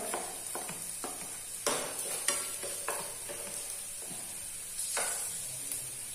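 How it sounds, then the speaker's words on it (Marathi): Whole spices such as coriander seed and cumin being stirred and roasted with onion and tomato in a hot pan, with a steady sizzle broken by repeated scraping strokes of the spoon, close and fairly quiet, and no talking. "हा मसाला मी सगळं भाजून घेणार आहे कांदा आणि टमाटर बरोबर."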